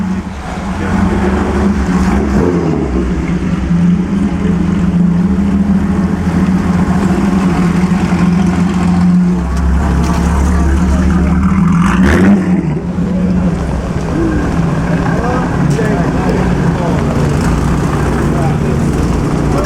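A vintage Mercedes rumbles past on the 2013 Mille Miglia road rally, a steady loud engine drone with a brief surge near the end, under constant crowd noise and some voices.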